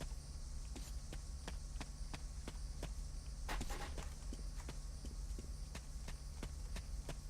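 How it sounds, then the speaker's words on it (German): Regular footsteps sound in the video game Metro 2033, evenly paced thuds at a walking rhythm over a low droning ambience, with one brief louder scuffle partway through. "Ich habe immer das Gefühl, ich höre Schritte hinter mir."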